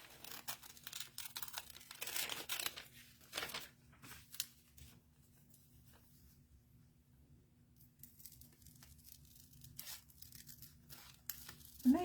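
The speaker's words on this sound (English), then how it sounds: "I'm going to just cut her out real fast" Scissors snipping around a paper napkin figure, quick bursts of crisp cutting and crinkling paper, close and fairly quiet, separated by short pauses.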